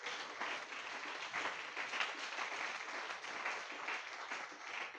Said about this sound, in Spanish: Den gloria a Dios y un aplauso a los que somos libres.